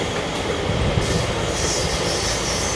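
Train passing through Dhanuvachapuram station on the Thiruvananthapuram–Nagercoil line, recorded from on board, with a loud, close rumble of wheels on rail and a brief high squeal, with no talking.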